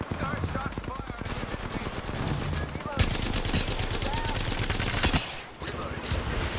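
Rapid automatic gunfire rattles in a video game firefight, dense rhythmic bursts with a sharp louder volley partway through, a voice talking over parts of it.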